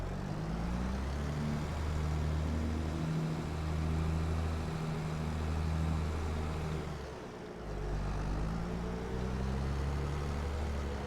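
A low, steady video game tractor engine drone with a harmonic hum runs nearly continuously, dipping briefly before resuming; no talking.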